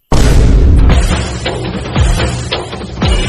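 A rocket firecracker bursting during Diwali: one loud, sudden boom at the start, followed by a few more sharp pops and cracks over a sustained rumbling roar, close and overpowering.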